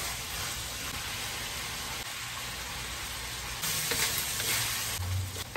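Sausage fries in hot oil alongside bacon, giving a steady soft sizzle and crackle with occasional stirring, growing slightly louder partway through.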